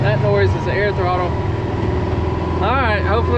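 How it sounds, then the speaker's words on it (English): Air throttle of an M1070 HET heavy-haul truck, a loud, close engine drone with rising and falling whines that swell near the end, under voices. "That noise is the air throttle."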